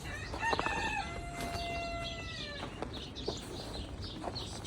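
A rooster crows loudly and nearby in the morning after a big blizzard, one long drawn-out call, while hens cluck and chatter around it in a farmyard.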